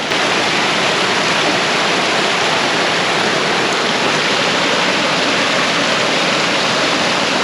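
Snowmelt creek tumbling off the mountains over rocks in Fishlake National Forest, a steady, loud, full rush of water that runs without a break, close to the listener, and no voices.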